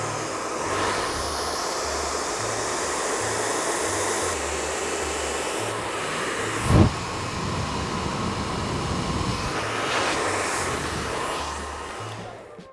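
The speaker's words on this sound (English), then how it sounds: "So as I'm blow drying, I also like to pull down towards the chin." A handheld hair dryer blows steadily and close while hair is blow dried, a continuous airy roar that shifts slightly as it moves, with one brief louder burst midway.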